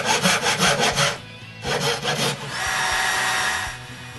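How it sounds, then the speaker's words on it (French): A hand saw cuts plywood for a router table cabinet in rapid rhythmic back-and-forth strokes. A pause follows, then a shorter run of strokes and a smoother scrape. The sawing is close, loud and heard alone without talk. "Je coupe le plywood avec la toupie, puis une scie à main."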